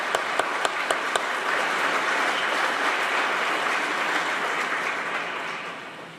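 An audience applauds a speaker arriving to give a talk, a dense, steady roar of many hands clapping that holds evenly for several seconds after a few sharp early claps, then begins to fade toward the end.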